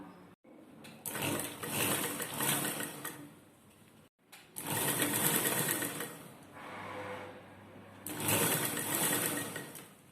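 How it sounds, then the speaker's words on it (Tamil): A sewing machine stitches a lined blouse, running in steady whirring bursts of a few seconds each, broken by short pauses, close and moderately loud with no talk. "நம்ம அப்படியே ஒரு 1/4 இன்ச் கேப்பில் ஃபுல்லாக தைச்சிட்டு வந்துடலாம்"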